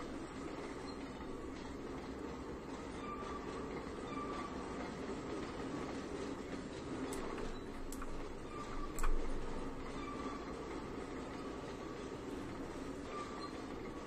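Freight train of eight tanker cars in Trainz 2019 rolling steadily, a quiet continuous rumble of wheels on rails with faint clicks and a soft clunk partway through.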